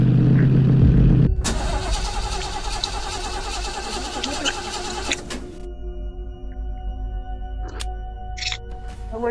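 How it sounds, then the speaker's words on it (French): Car engine of a vehicle that has just broken down after striking a large rock, a loud burst of mechanical noise at the start giving way to a steady, rough running drone with scattered knocks and rattles, no talk. "La voiture est tombée en panne."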